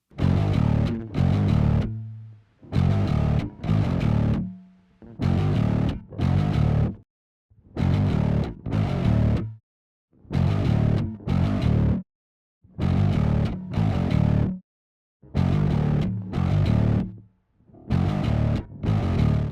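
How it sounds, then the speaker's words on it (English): Distorted bass guitar notes through a bass preamp with its noise gate on, played in short bursts, each cut off cleanly to dead silence between, in a steady repeating pattern. "Use the small button marked gate to turn the noise gate on"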